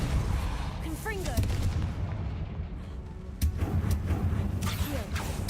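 Fire-spell blasts from Confringo in Hogwarts Legacy boom out as deep, punchy explosions, with a louder burst partway through amid magical whooshes and game effects.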